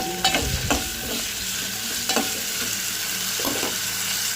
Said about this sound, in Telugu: వీటినైతే బాగా అయితే ఆయిల్లో ఒక ఫిఫ్టీ పర్సెంట్ అయితే బాగా ఫ్రై చేసుకోవాలి